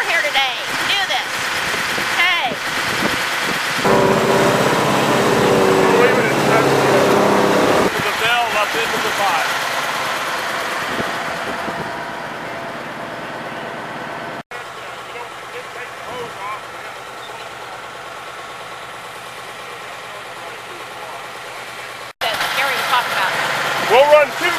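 Custom hay grinder running on hay bales, a continuous loud mechanical engine roar and churning drone that eases somewhat in the second half, with brief cutoffs and people speaking over it.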